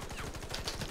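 Rapid automatic gunfire in the online shooter Warface, a steady stream of quick shots rattling close and loud through the whole second.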